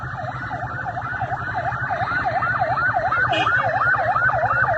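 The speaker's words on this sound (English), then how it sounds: "Why the siren?" A wailing emergency vehicle siren repeats a rapid rising and falling cycle over a steady road rumble, growing louder and closer.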